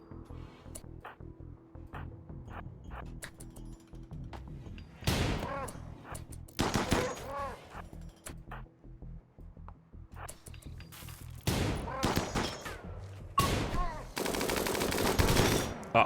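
Assault rifle gunfire from the RimWorld video game comes as scattered single shots over a quiet ticking background, then several loud rapid bursts of automatic fire toward the end.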